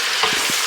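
Ham and onion fry and brown in a pot for a Southern split pea soup, a short, close, steady sizzle with a couple of soft stirring scrapes.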